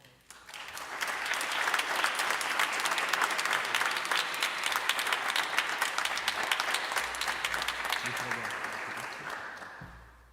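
Sustained applause from a large audience at a diploma presentation, steady and full for about ten seconds before tapering off at the end.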